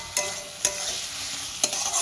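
Fried potato strips being cooked down in spices for a katla fish curry, a soft steady sizzle with three sharp spatula scrapes against the pan, no voices.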